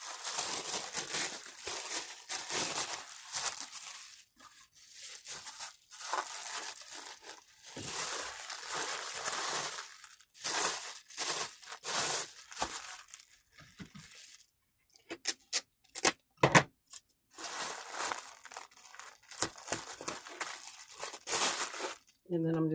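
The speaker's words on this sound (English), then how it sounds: "I'll wrap it with this red tissue paper." Red tissue paper crinkles and rustles in close, continuous bursts while a small box is being wrapped, with brief pauses and a few sharper crackles near the end.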